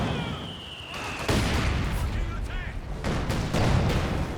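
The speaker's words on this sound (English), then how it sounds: "T-70 does get some good shots there." A T-70 light tank fires in a Company of Heroes 2 battle, with several sharp cannon shots and booms landing amid continuous gunfire and explosions, mixed with faint battle chatter.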